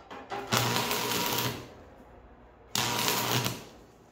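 Welding on a metal plant stand support, heard as two loud, steady buzzing bursts of about one second each, separated by a short quiet gap, with no talking.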